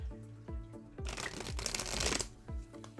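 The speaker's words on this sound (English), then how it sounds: "Now this deck, I might have a little bit of a hard time shuffling, but let's see." A tarot deck is riffled and shuffled by hand, with soft card flutters at first and then a loud, dense burst of rapid shuffling. Brief sliding taps follow.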